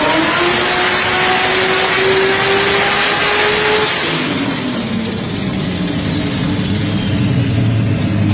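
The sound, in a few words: Barra six-cylinder drag car engine revving, played video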